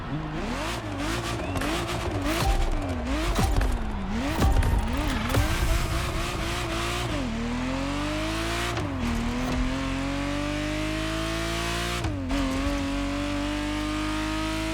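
Ferrari Testarossa in the racing game The Crew Motorfest, its engine revving up and down with tire squeal early on, then settling into steady acceleration with rising pitch and gear shifts, loud and continuous.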